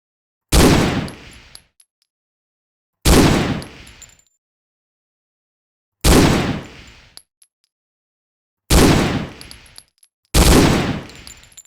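Five loud, isolated rifle shots ring out during firing practice in the video game Hidden & Dangerous, each a sharp crack followed by a short decaying tail and a faint metallic ring, separated by silent gaps of a couple of seconds.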